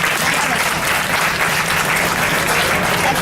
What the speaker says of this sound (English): How about another big round of applause for Chris?